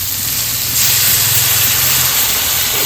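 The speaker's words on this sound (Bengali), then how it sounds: "মশলাটা ভালো করে কষিয়ে দিয়েছি জল দিয়ে দেবো" Water poured into a hot, sizzling spice paste for a village-style egg curry gives a loud, steady steam hiss that swells after the first moment and holds evenly to the end, with no talking.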